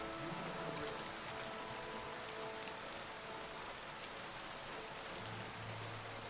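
Steady rain falling and pattering on surfaces, a dense even hiss with scattered droplet taps, faint and continuous.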